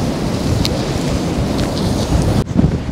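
Strong wind blows at the seaside in Anapa, a constant loud roaring buffeting against the microphone with a brief sharper gust near the end.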